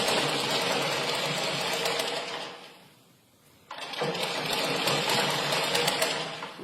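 A sewing machine runs steadily while stitching a child's velvet trousers, pauses briefly near the middle, then starts again and keeps a continuous, close whirring hum.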